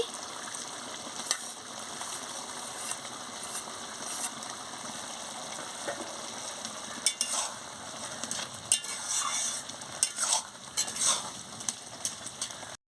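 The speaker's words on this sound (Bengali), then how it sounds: "ভালো করে একটু নাড়িয়ে দিচ্ছি দেখুন রঙটা কি সুন্দর হয়েছে" Curry with cumin powder is stirred in a frying pan, with a steady low sizzle and intermittent scraping and clinking of a utensil against the pan, close up.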